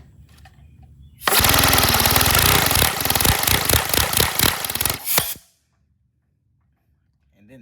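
A 157cc inline twin air engine fires up after a quiet start and runs loud and rapid for about four seconds, a harsh jackhammer-like clatter, then cuts out abruptly into near silence.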